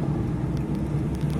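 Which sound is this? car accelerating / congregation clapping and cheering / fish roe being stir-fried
car accelerating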